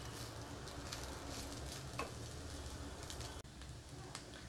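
Cooked rice being stirred and mixed in a pan for homemade vegetable fried rice, a steady sizzling, scraping texture running throughout with a single brief clatter near the end.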